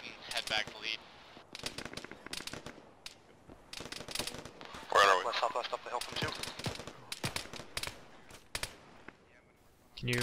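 Bursts of gunfire come in during a military video game, sharp shots and short automatic volleys spread irregularly over about ten seconds, some near and loud, with faint talk between them.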